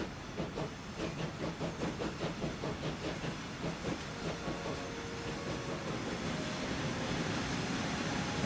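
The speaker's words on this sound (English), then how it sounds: "It's a long train." A long freight train in a Yorkshire rail-building video game rolls steadily past with rhythmic clickety-clack of wagons and a hiss, loud and continuous, building slightly toward the end.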